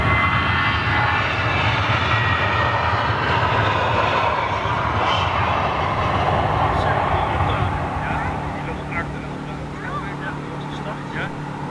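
A large jet roars loudly during takeoff at Schiphol airport, its engine noise dense and continuous before easing slightly near the end, with a person talking over it.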